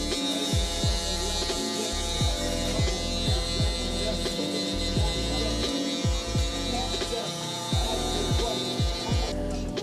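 Electric hair clippers buzz steadily and close up while a taper is cut into curly hair, the hum repeatedly dipping and swelling in short strokes as the blade moves across the head; a voice is faintly present.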